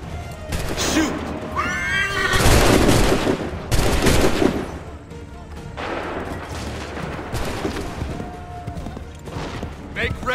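A loud gunfire volley in the video game Assassin's Creed 3 erupts amid battle noise, with horses whinnying nearby and voices shouting commands through the dense, rumbling din.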